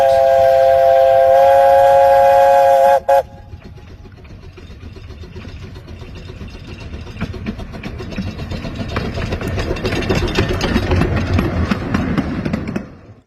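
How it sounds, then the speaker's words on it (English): A loud chime whistle on the Cleethorpes Coast Light Railway steam locomotive Bonnie Dundee sounds a chord for about three seconds, then stops, followed by the rising chuff and rumble of the train. "she was given a new chime whistle"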